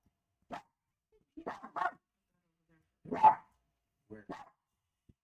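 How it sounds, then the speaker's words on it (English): A dog in the Roblox game Adopt Me barks in short, clear bursts: a single yap, then a quick pair, a louder bark, and another pair, separated by silence. "Oh my goodness, it's a dog."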